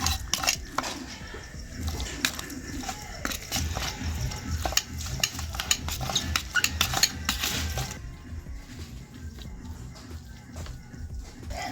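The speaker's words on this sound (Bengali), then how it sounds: "খুব গরম, সেই জন্য একটা হাতা দিয়ে এইভাবে চেপে চেপে মেখে নিচ্ছি।" A hot cauliflower mixture is pressed and mashed with a metal ladle in a pot, giving repeated scraping and clinking strokes of utensil against cookware, close and fairly steady throughout.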